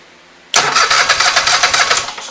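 A Kohler engine, swapped onto a Scag Tiger Cub mower and running with no muffler, cranks and catches abruptly after silence, then runs loud and rough with a fast pulsing rhythm.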